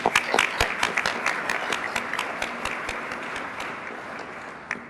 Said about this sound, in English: Give them a round of applause. They deserve it.